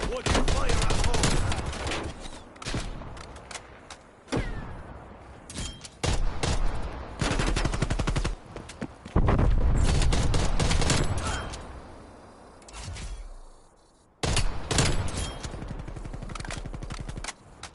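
Rapid bursts of gunfire fill a zombie video game, loud and close, with stretches of machine-gun-like clatter broken by short pauses and a near silence before a final sustained volley.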